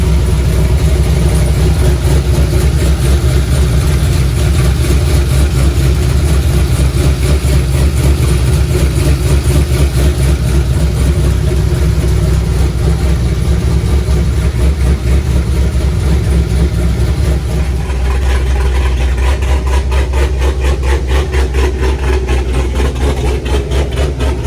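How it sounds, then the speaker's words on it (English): A car engine idles steadily after a transmission cooler has been fitted, with the bumper still off. The rumble is loud, close and continuous for about 25 seconds, with a slight drop in tone about two-thirds of the way through. "we're gonna start the car"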